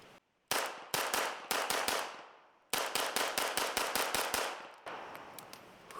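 A Titus Arms TA61 replica of the Skorpion VZ61 fires one sharp shot, then rapid bursts of close, loud reports that stop briefly and start again, ending in softer trailing pops.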